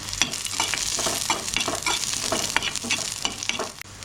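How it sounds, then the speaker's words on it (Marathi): Garlic and ginger fry in oil in a pan while being stirred, a close, steady sizzle broken by repeated scraping strokes of a spoon, with no talking. "लसूण आणि आदर भाजून घेते"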